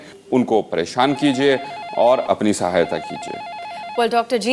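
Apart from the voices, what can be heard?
telephone ringing continuously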